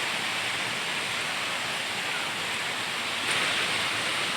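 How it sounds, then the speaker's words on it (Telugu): Water pours down at Rampa waterfall, a dense, steady roar of falling water heard close, unbroken and fairly loud throughout with no talking. "చూసారా ఎంత వాటర్ పైనుంచి కూడా పడుతుంది."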